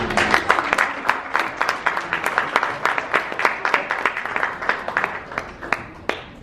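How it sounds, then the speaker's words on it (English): A crowd at a 25th wedding anniversary celebration applauds steadily, brisk clapping continuing throughout and thinning slightly toward the end. "How about another round of applause for Akash?"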